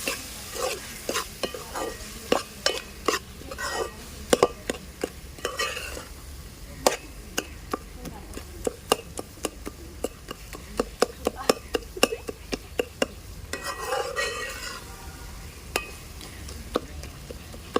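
Tomato egg curry being stirred in a pan, a spoon scraping and clinking at a steady irregular pace over a soft background sizzle, close and moderately loud, with no voices.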